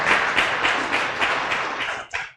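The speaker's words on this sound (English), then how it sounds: "let's go ahead and clap for them" A small crowd at a university student association inauguration ceremony claps together in a short burst of applause, with a brief pulsing rhythm, ending abruptly after a couple of seconds.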